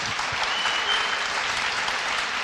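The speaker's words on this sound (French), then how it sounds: "qu'on applaudit." An audience applauds neurologist Michael Ferrand of the CHRU de Nancy at a Purple Day event, steady dense clapping that stays even and fills the room throughout.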